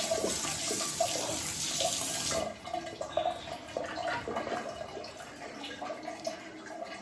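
Water pours and splashes steadily at a resort in Mansarovar as feet are washed, a loud rushing flow for the first two seconds, then softer, uneven splashes and trickles.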